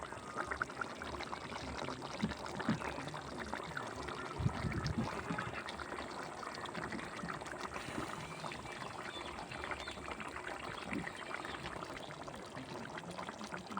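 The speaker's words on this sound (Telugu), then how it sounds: "కొంచెం వాటర్ వేసుకుని ఉడికించుకుంటే సరిపోద్ది" Water poured into a pot of broiler chicken curry cooking in village style, a steady continuous pour and trickle close by, with background noise throughout and no talking.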